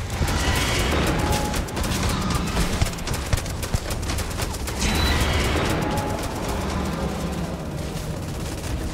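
Gunfire in the space game Starfield, a sustained rattle of rapid shots and booming impacts, loud and continuous, swelling and easing in waves across several seconds.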